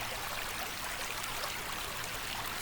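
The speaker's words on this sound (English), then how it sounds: "Listen and connect with the sounds of White Clay Creek." White Clay Creek flows in a steady, soft hiss of running water, a continuous quiet wash with no breaks and no voices.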